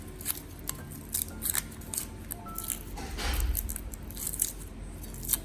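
Garlic cloves are minced finely on a board, with crisp, irregular knife chops and snips at close range, each stroke short and sharp against a quiet background.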